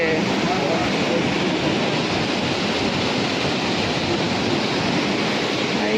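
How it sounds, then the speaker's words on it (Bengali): Water pours down from above along a hillside stream in the Dooars during rain, a steady, loud, broadband rush with no pauses, close to the listener and unbroken throughout. "এই জল নেমে যাচ্ছে ওপর থেকে"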